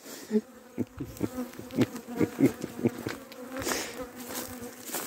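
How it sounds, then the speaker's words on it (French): Honey bees buzz around beekeepers working an apiary, a steady insect drone with rising and falling close passes as individual bees fly near, with no voices. "C'est les abeilles qui nous accompagnent."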